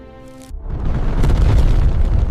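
A nuclear bomb blast: a deep, loud rumbling boom swells in after a brief tonal lead-in and rolls on heavily to the end, with no voices.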